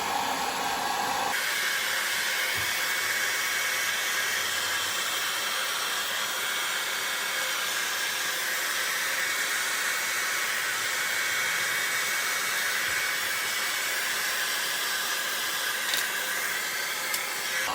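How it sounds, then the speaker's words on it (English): A steady, broad whooshing hum of a hair dryer on its low setting blowing continuously at old vinyl floor tile and adhesive, close and fairly loud, with no speech. "if I use just a hair dryer and even on a low setting"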